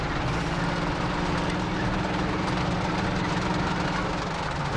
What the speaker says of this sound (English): Oh, and the helicopter's back.